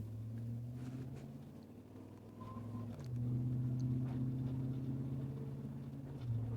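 Engine of a work truck pulling up through its gears, a steady low drone whose pitch climbs, drops at a shift and climbs again, heard from inside the cab with no talk.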